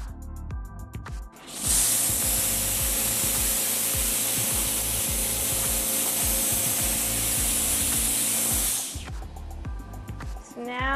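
A Clorox 360 electrostatic sprayer puts out disinfectant in one steady, loud, broadband hiss lasting about seven seconds. Fainter handling noises come just before it starts and just after it stops.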